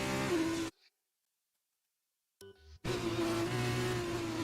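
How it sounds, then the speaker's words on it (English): F2 race car engines in a racing video game at the Belgian Grand Prix scream with a high, steady tone, loud and close, cutting out to near silence for about two seconds before returning. "I really like the sound of these engines."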